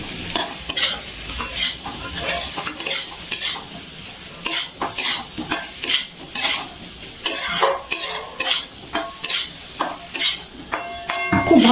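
A spatula stirs fried kohlrabi and prawns in a cooking pan with rhythmic, close scraping strokes over a steady sizzle and occasional clinks of metal on the pan.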